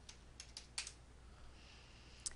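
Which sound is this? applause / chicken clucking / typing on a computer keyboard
typing on a computer keyboard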